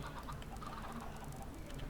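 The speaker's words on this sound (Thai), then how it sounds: "ตอนนี้ไก่ทุกตัวมันลุมเราแล้วครับผมทุกท่าน" Chickens in the video game Minecraft cluck in a steady, dense chorus of overlapping calls, loud and close with no pauses.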